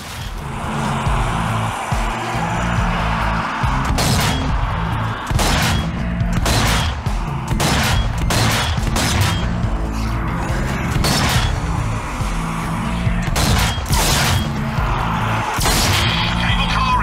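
Gunfire in the zombie shooter Zombie Army 4 comes as sharp, irregular shots, some in quick pairs, over a steady droning game soundtrack.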